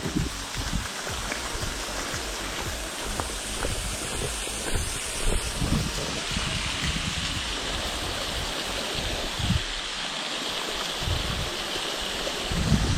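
A waterfall cascading down a cliff on a mountain trek in the Spanish Pyrenees, heard as a constant, close rushing hiss of falling water with some wind buffeting the microphone.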